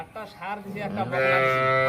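A cow moos at a cattle market in Dinajpur, where cows are sold along with their calves, including Friesian crosses. A long, loud, close call with a low harmonic tone is heard over voices and market noise.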